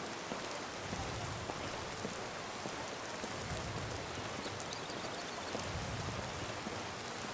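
Steady rain falls in Skyrim Special Edition as a constant dense hiss of drops with a low rumbling undertone, soft and unbroken, with no talk.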